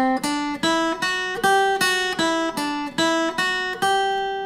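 Guitar picks a brisk three-notes-per-string sequence exercise, with evenly spaced plucked notes stepping through a repeating pattern, each clearly attacked and close, alone without any talking.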